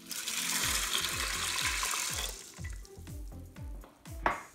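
Water pours in a steady gush into an Instant Pot holding red beans, lotus seeds and dried tangerine peel, then slows to trickles and a few final splashes, close and clear with no talking.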